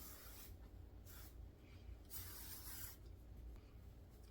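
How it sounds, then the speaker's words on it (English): AG Firewall heat protectant misted onto hair from a pump bottle, several short dry hissing sprays of varying length, close and fairly quiet, with no talking. "It comes out as a dry oiled mist, and I just give my hair a nice layer of that."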